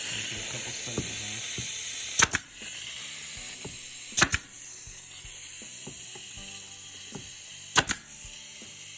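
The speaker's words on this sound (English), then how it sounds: "Put a couple staples in." Three sharp, loud staple-gun shots drive staples into a shaker-style cabinet door frame, spaced a couple of seconds apart over a steady background hiss.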